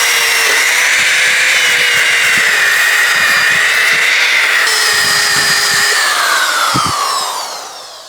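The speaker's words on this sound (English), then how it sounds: "let's get my sander and sand that smooth" A power sander smooths the surface of an old restored hammer, whining loud and continuously with shifting pitch, then easing off at the end.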